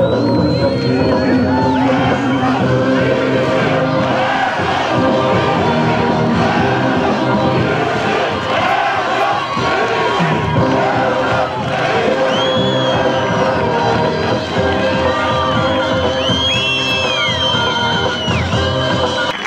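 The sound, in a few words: crowd shouting together at Newroz rally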